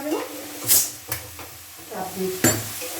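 A spoon scrapes and knocks through potatoes, onion and vegetables in a cooking pan, making a few separate clatters and scrapes at close range with quiet gaps between them.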